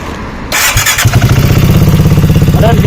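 A BSA 650 Gold Star motorcycle with a drilled exhaust baffle fires up loudly, settling into a rapid, pulsing, throaty engine beat close by.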